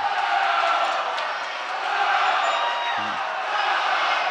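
Spectators at a boys' high school swim meet between Midland and Dow High cheer steadily from a crowd, a continuous roar of voices echoing in an indoor pool, with no single voice standing out.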